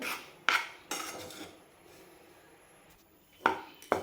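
Spoon scraping and clinking in a pan while gram flour (besan) roasts for besan barfi, with a few sharp metallic strikes spread across soft rubbing, close and fairly quiet.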